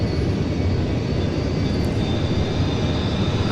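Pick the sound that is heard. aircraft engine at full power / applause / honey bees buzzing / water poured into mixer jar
aircraft engine at full power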